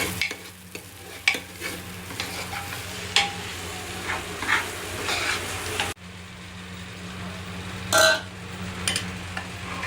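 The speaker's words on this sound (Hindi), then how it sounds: "फाइनली मैंने तड़का मार दिया है।" Spices tempered in hot oil for khichdi crackle and sizzle steadily, with a spoon stirring and clinking against the pan. A louder burst of sizzle comes partway through.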